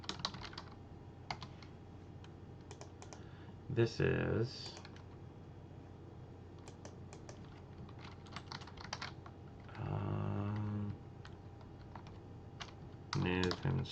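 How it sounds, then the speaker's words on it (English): Fast, light clicking of someone typing on a computer keyboard, close and steady throughout, with a few brief spoken words breaking in now and then. "before I start typing it and get it wrong"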